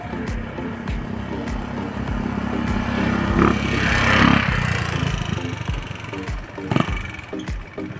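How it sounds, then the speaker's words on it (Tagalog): A motorcycle passes along an open outdoor road during bird training. Its engine rises to a moderate peak in the middle and then fades over a few seconds, under steady outdoor background noise. "kung mapansin nyo, may dumaan na motor"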